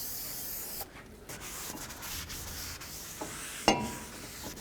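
A cloth or pad rubbing and wiping over a brake rotor on a 1999-2007 GMC Sierra, with soft continuous scrubbing strokes and a brief sharper scrape near the end, close and fairly quiet, with no talking.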